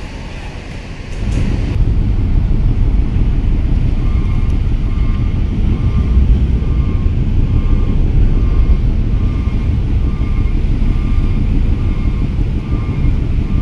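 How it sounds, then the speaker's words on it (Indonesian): Ferry KMP Portling 3 arriving and coming alongside the dock at Bakauheni port, with a loud, steady low rumble of engines and wind filling the whole span after a brief quieter start. "Kapal yang mau sandar di KMP Portling 3."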